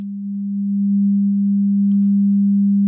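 A steady test tone comes through a beamforming algorithm set to its narrowest beam, a single pure hum that grows slightly louder and holds evenly throughout.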